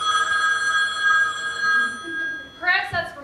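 An old-fashioned telephone bell rings in steady repeated bursts in an English drama, loud and clear for a few seconds before a voice begins speaking over the end.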